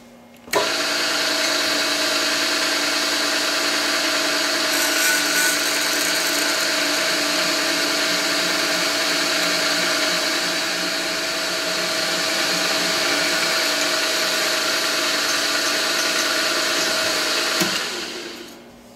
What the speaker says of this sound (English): one neat strip of sheet metal cut with the slitting saw from a piece of sheet metal